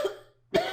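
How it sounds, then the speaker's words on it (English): A person coughs twice in quick succession, close to the microphone, with a short quiet gap between the two dry bursts. "I got a little coughing to do here."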